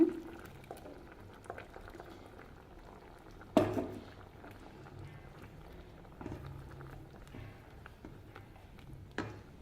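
A pot of vegetable kurma curry with ground coconut bubbling and simmering steadily, with a soft continuous gurgle, a couple of sharper clinks or taps, and no talking.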